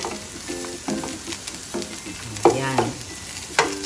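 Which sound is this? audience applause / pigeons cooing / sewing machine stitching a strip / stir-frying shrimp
stir-frying shrimp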